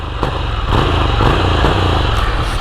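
A 2023 Ducati Scrambler Urban Motard with its stock exhaust runs steadily and loudly nearby, a throbbing engine note with a few brief blips of the throttle over about three seconds.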